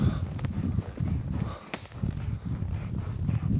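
Horses walk on a mountain trail ride, their hooves making an uneven clip-clop at close range under a steady rustling background.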